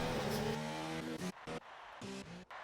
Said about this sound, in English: A few more cars leaving the pits.